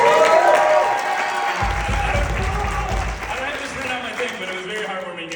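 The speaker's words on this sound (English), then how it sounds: "Can we get another round of applause for him?" Audience applause at a comedy roast: dense clapping fills the room throughout, with a deeper rumble joining midway, while a voice talks over it.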